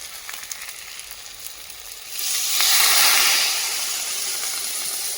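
Loud hiss and sizzle rise sharply as water is poured onto sautéed spices in a hot pan for a Bengali pea curry, then settle into a steady bubbling fizz.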